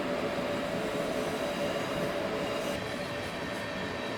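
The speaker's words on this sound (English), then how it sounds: "train plays a better tune than most of the stuff in the charts" A train in the Train Simulator video game rolls along with a steady, loud rumbling drone and a sustained tonal hum, continuous throughout with no pauses.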